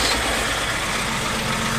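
A Range Rover engine runs steadily, a constant broadband mechanical hum with a low rumble and no pauses, close and fairly loud, with no talking.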